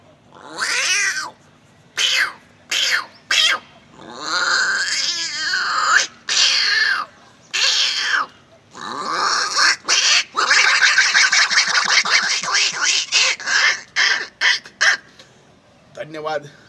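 A human voice imitates cats meowing and yowling, a string of drawn-out wails and short cries separated by pauses, close and loud.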